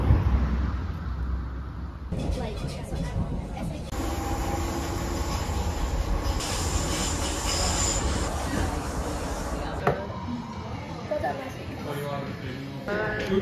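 A train rattles along with high-pitched wheel squeals rising and fading, while people talk nearby over the steady rumble.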